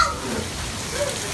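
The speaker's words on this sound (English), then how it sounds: "The best rain we've had yet." Heavy rain pours steadily as a continuous wash of drops hitting surfaces, loud and close throughout with no voices.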